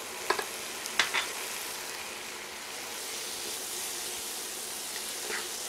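Red chili and coriander powder frying in a pan for fish masala, a steady quiet sizzle with a few early clicks of a spoon.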